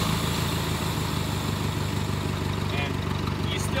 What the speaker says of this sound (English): let me just show you a little bit of the operation here. It makes it so much better. I'll go ahead and start it.